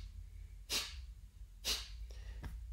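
Two strong, sharp nasal exhalations after a neti pot saline rinse, spaced about a second apart, followed by two lighter snorts, close and loud with no talking.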